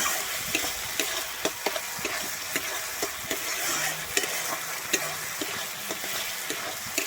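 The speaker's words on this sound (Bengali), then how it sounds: "আমি চিনিটা দিয়ে আবারও ভালোভাবে মিশিয়ে নেব" Spoon stirring sugar into a sizzling spice masala with yogurt in a pan for Bengali doi katla fish curry, with steady scraping strokes and soft frying crackle, close and continuous with no talk.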